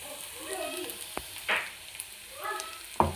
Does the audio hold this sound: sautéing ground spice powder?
yes